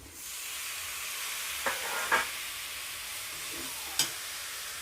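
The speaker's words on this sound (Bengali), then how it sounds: "এরপর আমি কড়াইয়ের মধ্যে মাংস কাটাগুলো দিয়ে দিলাম।" Raw chicken pieces dropped into a wok with spices, making a soft, steady frying hiss broken by a few brief scraping clatters, close by, with no talk.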